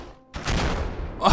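Grenade explosion in a Minecraft zombie survival game: a short silence, then a sudden loud broadband blast that rumbles on for about a second before a second sharp burst at the end.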